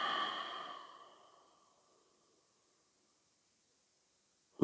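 A slow, deep breath out during a yoga stretch, a soft airy sigh that fades over about a second and a half into silence, close and quiet.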